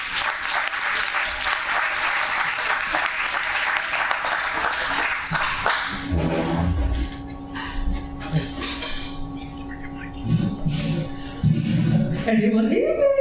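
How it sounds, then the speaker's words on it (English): An audience at a Chutney & Chat keynote event in Birmingham gives dense, sustained applause for several seconds, then the clapping fades as a voice speaks over the room. "So massive round of applause, please, for Zoe."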